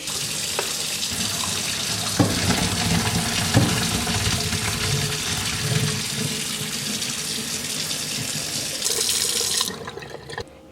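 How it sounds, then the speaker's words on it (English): Hot pasta water pours from a pot of cooked noodles into a kitchen sink, a steady loud rushing splash for most of the stretch that cuts off abruptly near the end. "So now I'll turn the burner off and go drain the noodles."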